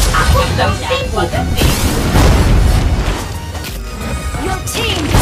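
A turret is destroyed in the Mobile Legends mobile battle game: a loud smash and boom, with crashing bursts, rides over dense, continuous game sound effects while a game announcer's voice is heard.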